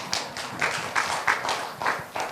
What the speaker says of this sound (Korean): 박수 좀 하세요